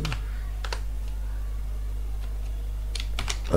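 Keystrokes on a computer keyboard while typing in Notepad on Windows, a handful of sharp clicks in two short clusters over a steady low electrical hum, close by with no speech.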